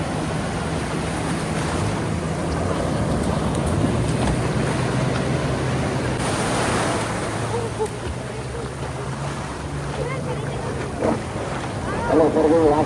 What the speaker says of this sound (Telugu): అలలు చూస్తున్నారు అసలు ఎంత పెద్దగా వస్తున్నాయో.